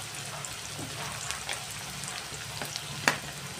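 Asafoetida dropped into hot oil for a tempering sets off a soft, continuous sizzle, with light stirring clicks and one sharp tap near the end.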